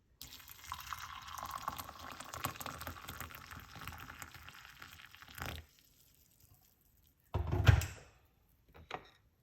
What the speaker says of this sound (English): then pour hot water